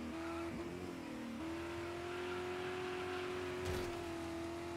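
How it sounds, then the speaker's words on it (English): A race car engine in the racing game Dirt 5 on Xbox Series X, holding a steady high-pitched scream with brief dips as it shifts, loud and continuous, with a short burst of noise near the end. "You can hear it, the car screaming."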